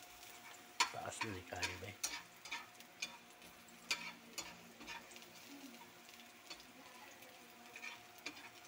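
Garlic sautéing in a pan for vegetable lumpia gives a faint sizzle under light clicks and scrapes of stirring, close by, as a person speaks briefly.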